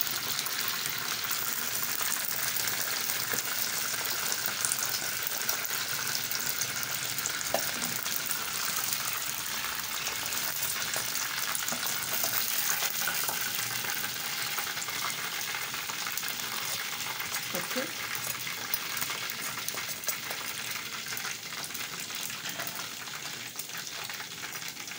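Fish and chips fry in hot oil in a Nigerian kitchen, a steady dense sizzle and bubbling that holds at an even, fairly loud level throughout with no talking.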